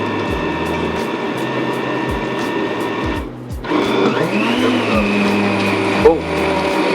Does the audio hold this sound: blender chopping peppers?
yes